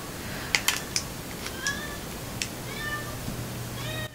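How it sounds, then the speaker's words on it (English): Domestic cat giving several short, high meows spaced over a few seconds, fairly close, with some light tapping and handling noises in a quiet room. "she has like a unique meow she does when she steals things"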